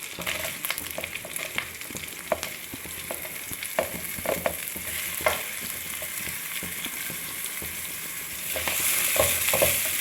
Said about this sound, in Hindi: तो प्याज को मैं थोड़ा सा भूनूंगी।